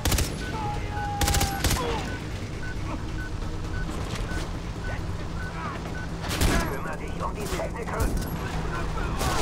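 Far Cry 3 campaign gunfire comes in a few loud bursts of rapid shots separated by quieter stretches of game ambience, with someone talking faintly in between.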